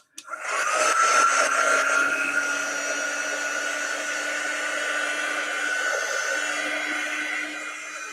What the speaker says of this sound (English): I'm going to grab our heat gun, and I am going to dry a few spots